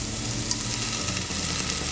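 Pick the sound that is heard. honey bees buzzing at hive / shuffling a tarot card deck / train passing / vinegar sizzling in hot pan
vinegar sizzling in hot pan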